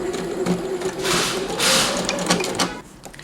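A sewing machine stitches a hem on fabric with a fast, steady mechanical whirr and rhythmic needle clatter, close and moderately loud, swelling in short bursts and then slowing to a stop.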